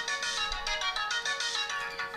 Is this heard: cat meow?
no